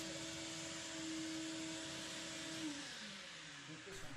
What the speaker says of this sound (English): The next method I'm going to try is with a shop vac.